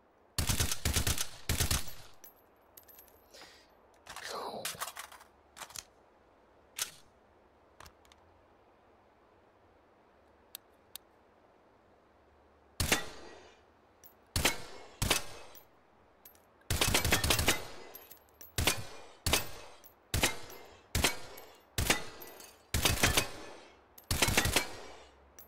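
Gunfire in the H3VR virtual reality game, firing in burst mode: repeated short bursts of loud, sharp shots, a few isolated cracks early then a rapid run of evenly spaced bursts, with no talking.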